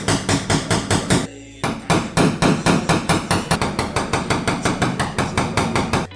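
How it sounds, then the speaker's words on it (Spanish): Rapid, light hammer taps on thin sheet metal of a Renault van, a long steady run of bright metallic knocks with one brief pause, close and loud, no voices. "dándole martillacitos pequeños e ir metiendo la chapa hacia adentro"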